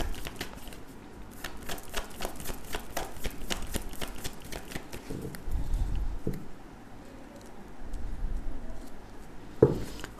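Tarot cards shuffled by hand in a run of quick crisp riffling snaps for several seconds, followed by softer card handling and a brief louder tap near the end, with no talking.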